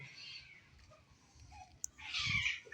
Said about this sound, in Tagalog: Ayan, naghahabulan yung pusa naman.